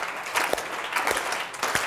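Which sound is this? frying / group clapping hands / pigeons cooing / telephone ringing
group clapping hands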